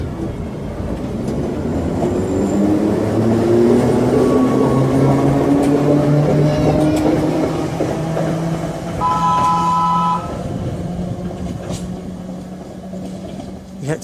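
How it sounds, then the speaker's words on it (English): An ex-Piccadilly Line unit on the Isle of Wight pulls out of Brading station, its motors whining upward as the wheels rumble and clatter past close by; a brief two-tone whistle sounds partway through. "Let's watch the train go out."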